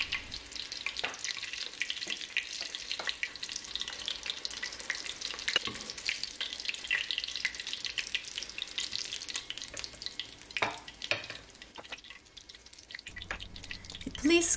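Kadınbudu köfte, Turkish lady's thigh meatballs, fry in a pan with a steady, crackling sizzle, broken by occasional louder pops and spatters, under intermittent talk.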